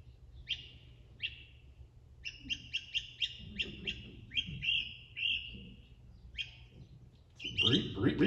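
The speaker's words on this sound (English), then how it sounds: "when they come in the spring, they're easy to hear because they have a very distinct call." A great crested flycatcher gives a series of sharp, rising whistled breep calls, some single and some in quick runs, fairly clear against a quiet background, with a burst of louder noise at the end.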